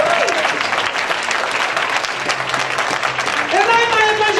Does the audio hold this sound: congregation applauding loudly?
yes